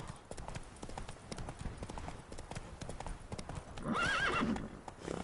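Hooves of Roach, the horse in the video game Witcher 3, clop steadily, then a loud neigh rises near the end over the continuing hoofbeats.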